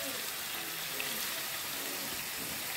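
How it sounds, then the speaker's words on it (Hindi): Chicken frying in a pan for a creamless chicken pasta, a steady soft sizzle and crackle that stays level the whole time, close and fairly quiet, with no talk over it. "यहाँ पर हमारा चिकन जो है वो फ्राई हो रहा है।"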